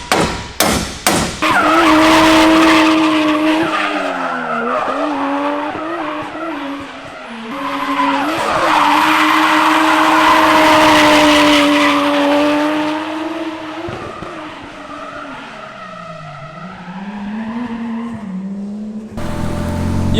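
A turbo car's engine revs rise and fall through shifting gears while tires squeal and skid in long drawn-out screeches; loud and close, no voices.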